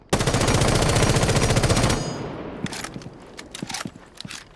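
An MP5 in Rainbow Six Siege fires a loud sustained automatic burst for about two seconds, followed by scattered footsteps and clicks.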